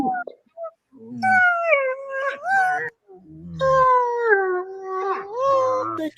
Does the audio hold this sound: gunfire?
no